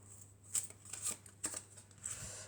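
Tarot cards are shuffled by hand in a series of quick, crisp riffles and flicks, close and fairly quiet, with no talking.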